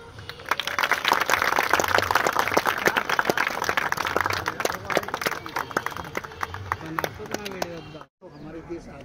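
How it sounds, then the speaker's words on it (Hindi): Dense applause at an Independence Day celebration at a maritime institute, many hands clapping steadily and close for about eight seconds before stopping abruptly, with speech following. "ताली बजाना।"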